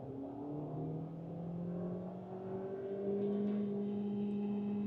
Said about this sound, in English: Full pedal to the metal, not upshifting.